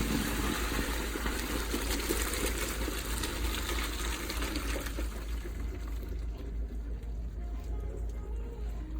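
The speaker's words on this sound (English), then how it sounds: "Drain it in the sink here." Cooked pasta is drained in a kitchen sink, and hot water rushes and splashes steadily through a colander, loud at first and then easing slightly toward the end.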